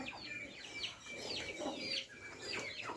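Village chickens and chicks clucking and peeping together, a busy overlapping flock chorus of short calls close by, steady throughout with no talking.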